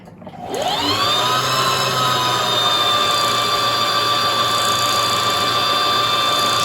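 Sewing machine winding thread onto a bobbin while making a shirt, a steady high motor whine with a faint overtone that rises as it spins up, then runs continuously and loud with no talk.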